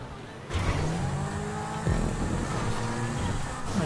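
Zentorno and Proto X80 supercars race in GTA V, engines droning loud and close with rising revs and a sharp gear change midway, a steady roar throughout.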